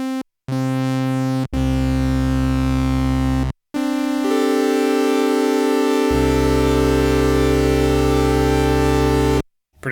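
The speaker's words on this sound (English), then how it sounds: "Evolution of Command starts with the triangle plus" Sustained buzzy tones from an Akai AX-60 synthesizer with a mixed triangle and ramp waveform, played as a few long held notes separated by brief silences, loud and harmonically rich, with no voices.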